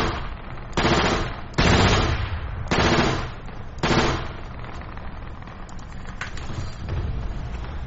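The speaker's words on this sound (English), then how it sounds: "Are you guys taking fire? Yeah, we're taking fire." Gunfire in a video game firefight: several loud, close bursts of automatic fire in quick succession, fading into quieter distant shots and battle noise.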